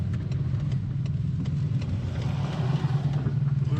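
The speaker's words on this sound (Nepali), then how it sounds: "यो बाइकलाई पास हुन दियौँ" A motorbike passes nearby on a hilly road toward Chitlang, Nepal, with a steady low engine drone and rumble that holds close throughout.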